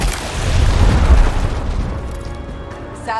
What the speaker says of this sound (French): Gare à l'explosion